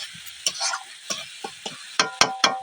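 Chili paste is stirred into a cooking tomato mixture, with a spoon giving a series of short scraping strokes over a soft sizzle and a few sharper clatters near the end.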